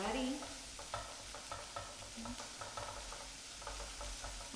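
Onions and garlic fry in hot oil in a pan, giving a steady crackling sizzle with scattered pops and occasional stirring scrapes. No one speaks.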